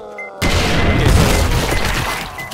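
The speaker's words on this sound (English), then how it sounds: "definitely grenades will trigger them" A grenade goes off in the video game 7 Days to Die: a single sudden, loud boom that cuts in after a short quiet moment, followed by a rumbling, crackling decay.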